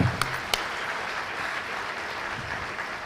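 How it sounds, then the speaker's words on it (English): Audience applause at an alumni day felicitation ceremony as an honoree receives a shawl, plaque and token, steady broadband clapping throughout with a couple of sharp transients near the start, no voices. "Let the claps be running,"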